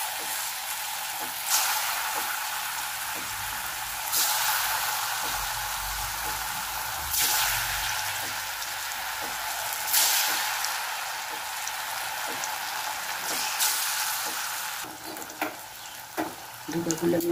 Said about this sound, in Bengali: ধোকাগুলো আমি ভেজে নিই।